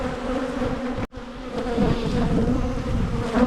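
Honey bees buzz steadily around an open hive in Australia, a dense close swarm-like drone with a brief dropout near the start, then a continuous hum with no voices.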